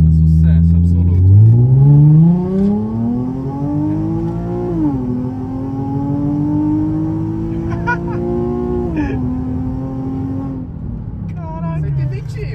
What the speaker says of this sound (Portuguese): É porque o carro faz muito barulho